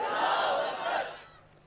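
A large gathering at an Islamic religious speech answers the call of Nara-e-Takbir with a loud unified shout, a single sustained crowd roar that fades out after about a second.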